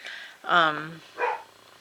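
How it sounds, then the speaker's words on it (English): A pet dog gives a couple of short barks indoors, a sharp yelp followed by a softer second bark, close to the microphone in a quiet room. "Sorry about my dog."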